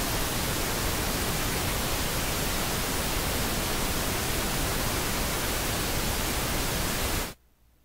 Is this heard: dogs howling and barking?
no